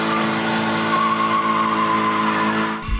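A Mazda Miata spins donuts with its tires squealing in one long, loud, continuous screech over a steady engine drone, easing off right at the end.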